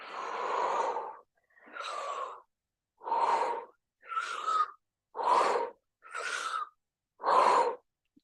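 Deep breathing exercise with full inhales and full exhales: seven long, loud breaths close to the microphone, each about a second, separated by short pauses, with no talking.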